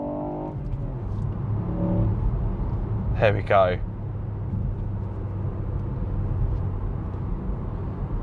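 A 2021 Ford Puma ST accelerating hard on a coastal road at dusk, engine note droning steadily under the cabin, with someone speaking briefly over it and a short whoosh partway through.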